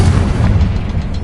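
A Confringo blasting spell in a Harry Potter video game erupts into a loud, sustained booming explosion with heavy low rumble for over a second, with no talking.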